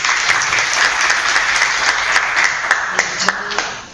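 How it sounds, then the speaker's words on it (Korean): Sustained audience applause welcomes a speaker at a Korean policy talk event, a dense even wash of clapping that thins out toward the end. "박수로 환영해 주시기 바랍니다."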